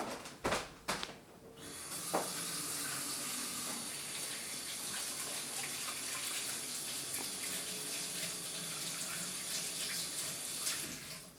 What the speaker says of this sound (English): I'm going to wash my hands before I seal up this Ziploc bag.